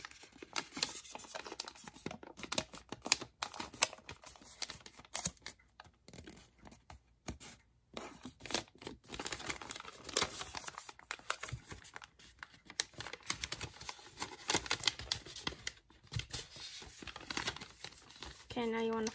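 Paper crinkles and crackles as it is folded and pressed into an origami rat, producing close, soft rustles and sharp creasing snaps in irregular bursts while a person speaks quietly.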